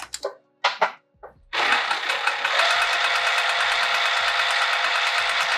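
A sewing machine stitches the seam of a handmade bag, running in a steady loud whir after a few short stop-start bursts, with no talking.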